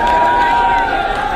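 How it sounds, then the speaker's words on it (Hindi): Audience at a live comedy show claps and cheers in a brief, steady wash of crowd noise, with no one speaking over it. "अरे ताली बजाओ भाई"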